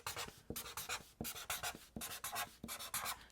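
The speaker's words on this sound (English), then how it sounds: "grab yourself some paper and a pen and write the names of your chords at the bottom" A pen scratches across paper in quick, evenly spaced strokes, close and clear, as chord names are written out with no voice over it.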